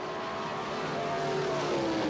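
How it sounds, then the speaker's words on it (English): Drag racing cars roar down the strip, a Chevy-engined car on a single 4-barrel carburetor against a Dodge Hemi on two big 4-barrels, at a 1977 Springnationals race; a steady, sustained engine drone with rising tones, fairly loud throughout. "utilizing one 4-barrel carburetor on the Chevy engine, two big 4 barrels on the Dodge Hemi for Don Carlton. A close race"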